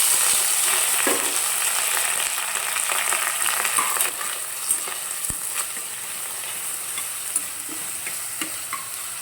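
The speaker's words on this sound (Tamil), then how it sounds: "இப்போ வெங்காயம் நல்லா வதங்கட்டும்" Onions and curry leaves frying in hot oil with fennel seeds for a vegetable kurma, a bright continuous sizzle with scattered crackles and the occasional tap of a spoon stirring, heard close with no talking.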